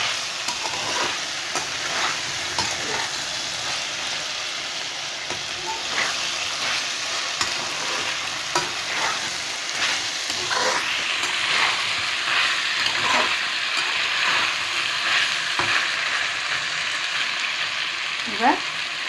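Pumpkin and potato curry with green chillies sizzles and fries steadily in a pan, with scraping stirs and occasional clinks throughout, close and continuous.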